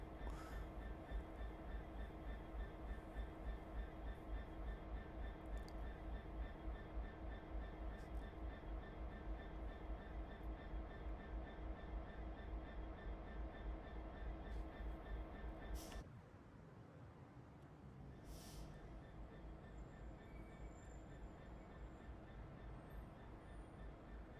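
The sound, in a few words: diesel train running in Train Simulator Classic video game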